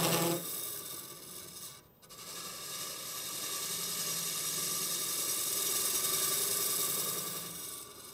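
Wood being bored out on a lathe to open a cavity: a continuous close rasping, scraping hiss with one short break near the start, no talk.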